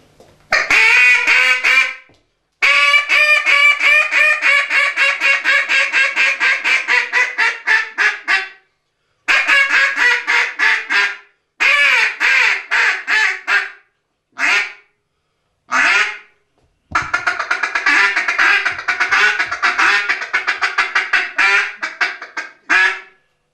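An acrylic single reed duck call is blown in long runs of loud, rapid raspy quacks, then several shorter bursts and a final extended series, close and dominant with no talk.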